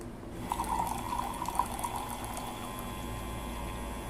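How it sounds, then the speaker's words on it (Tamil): Water runs steadily from an automatic drinking-water dispenser, a continuous close splashing flow that starts within the first half second and keeps going to the end, with no voices. "ஆன் பண்ணோம்னா தண்ணி வருது."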